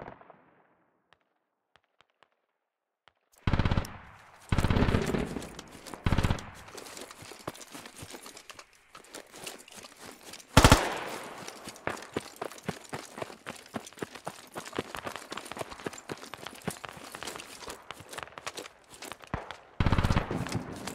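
Gunfire in the tactical shooter Squad, starting after a few seconds of quiet with loud bursts and rapid automatic fire, a sharp blast midway, then long rattling volleys of close and distant shots with no voices.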